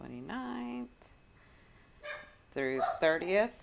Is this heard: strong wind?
no